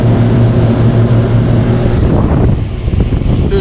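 A 1993 Comfort-Aire window heat pump running on high in heat mode, loud steady blower rush with low motor hum, easing slightly toward the end.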